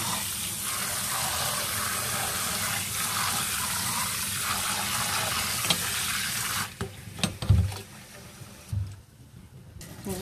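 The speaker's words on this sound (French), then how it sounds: "Donc, on va remplir le plat d'eau." Water runs steadily into a dish of couscous semolina, a continuous broad rushing pour lasting several seconds. It then breaks into a few splashes and fades toward quiet.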